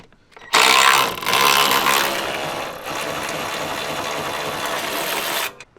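A power tool breaks loose a bolt on a new car, starting abruptly with a loud mechanical whirring and grinding rattle that runs about five seconds, drops slightly in level partway, then cuts off.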